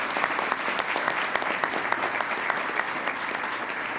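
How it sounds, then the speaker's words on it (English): An audience at the 2015 Bermuda Sports Awards gives a warm round of applause, dense sustained clapping filling the hall with some crisp individual claps standing out and no voices on top. "You could give them a good round of applause."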